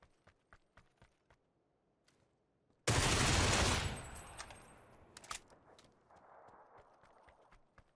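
Gunfire in PUBG on console: a sudden loud sustained burst of shots that decays over a couple of seconds, preceded by soft footstep-like taps and followed by scattered faint shots.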